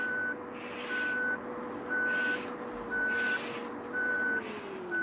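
A bus backing up in Bus Simulator Ultimate sounds a steady reversing beep, five evenly spaced tones about a second apart over a low engine idle hum.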